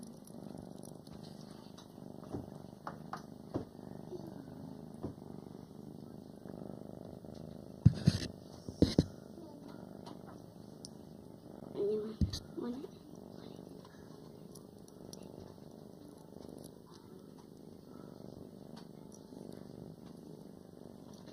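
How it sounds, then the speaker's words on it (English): A cat purrs softly at close range in a quiet room, a faint, steady low rumble with occasional small taps and rustles, plus a few louder knocks partway through. "There's a cat laying down right there."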